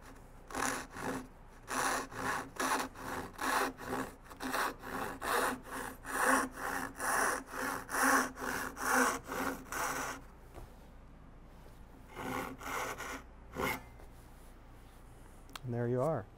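Hand saw cutting a wooden tenon near the shoulder, a steady run of rhythmic back-and-forth strokes up close, pausing briefly before a few more strokes.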